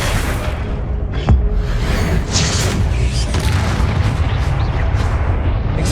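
Confringo blasting-spell explosions in Hogwarts Legacy, a steady run of booming blasts and bursts in heavy combat, with one sharp crack early on and dense layered noise throughout.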